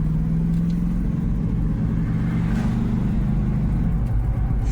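A Hummer H2 driving with a loud, steady low engine rumble and drivetrain drone heard from inside, the pitch holding fairly even throughout with no talking.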